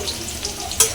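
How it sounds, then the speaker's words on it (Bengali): Chopped onion fries in hot oil with a close, steady sizzle, and a sharp stirring scrape comes near the end. "এটা ভালো করে তেলের সঙ্গে আমি লাল লাল করে ভেজে নেব।"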